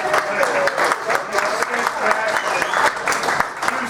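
Audience applause at a live comedy show in a Butte bar, a dense, continuous patter of many hands mixed with crowd voices and cheering, holding loud for the whole stretch.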